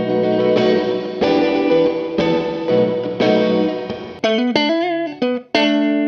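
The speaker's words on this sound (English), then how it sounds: "Definitely the biggest reverb that we've got." Electric guitar chords through a cathedral reverb effect ring into a huge, washy reverb that sustains and blooms, then a run of single notes trailing off into the long ambient tail.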